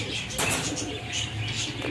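Pigeons in a bird gallery, with kasad pigeons among the stock, give soft cooing and a brief flutter of wings over steady, close background bird noise.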